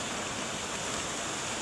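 Water of a mountain stream flows in a continuous, even hiss, steady and moderately loud, with no voices over it.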